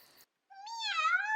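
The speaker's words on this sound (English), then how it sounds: "And then there's the cat." A cat meows once, a single clear, rising and then falling call that starts after a short silence and sounds close and fairly loud, with a faint brief rustle before it.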